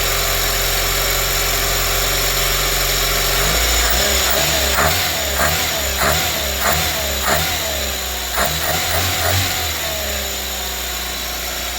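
A classic Renault 5 engine idles loudly and steadily up close, its pitch and rhythm shifting as the choke comes off, with a run of uneven pulsing beats partway through before it settles back to a smooth idle.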